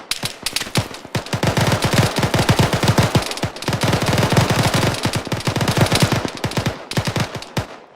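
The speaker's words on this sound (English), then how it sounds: "Taking fire. Shots fired, return fire." Dense automatic gunfire from an ArmA 3 military squad exercise, rapid bursts and overlapping shots cracking almost continuously for several seconds, loud and close with brief pauses between volleys.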